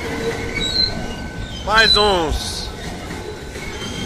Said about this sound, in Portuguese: Vagões aí tipo Siders, né? Lonados, né? Trem que vai descer aí a Serra do Mar.